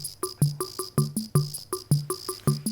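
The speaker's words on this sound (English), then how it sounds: "And now this has got the guru sound that I mentioned earlier." A Roland TR-77 drum machine plays a rhythm preset with a scraping guiro voice, its crisp ticks and short rasps repeating in a quick, even pattern over soft low drum beats.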